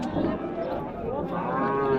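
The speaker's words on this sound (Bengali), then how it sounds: "ব্ল্যাক ব্ল্যাক গরুটা দেখেন কালো কালো" Cattle at a crowded Bangladeshi livestock market ahead of Qurbani, with a black cow lowing in a drawn-out moo over steady background crowd noise.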